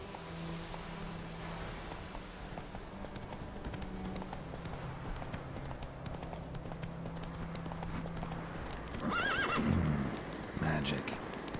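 Roach, Geralt's horse in The Witcher 3: Wild Hunt, gallops with rhythmic hoofbeats over ambient game sound, then lets out a loud whinny near the end.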